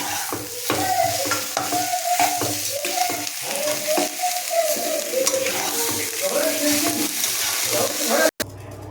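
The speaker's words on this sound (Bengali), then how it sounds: "আমি ভালো করে আলুটার সাথে মশলাটা নাড়াচাড়া করে মাখিয়ে নেবো" A spiced potato filling for bread pakora is stirred in a pan, with repeated scraping and tapping strokes over a gentle sizzle, ending in a sudden cutoff.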